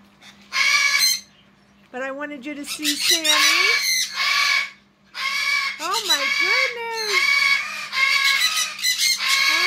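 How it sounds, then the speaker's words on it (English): Birds at a home zoo let out loud repeated squawking screams in bursts close by, while someone speaks between and over the calls. "We got screaming birds as always."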